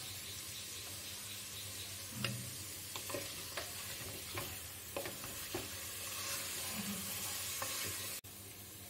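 A spoonful of cumin powder sizzles in hot oil in a pan for mutton yakhni pulao, with a steady close fry hiss and a series of scraping spoon stirs and taps, with no voices.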